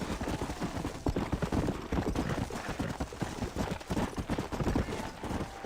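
A horse in the video game Red Dead Redemption gallops hard, its rapid drumming hoofbeats loud and continuous, with a brief snort or whinny mixed in and no talking.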